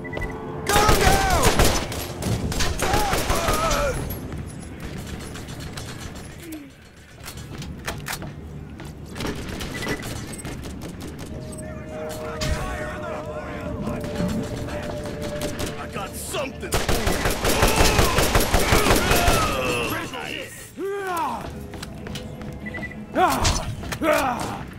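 Rapid enemy gunfire rattles through combat in the video game Borderlands, bursts of automatic fire and single shots recurring throughout, loud and close, with thuds and other game effects mixed in.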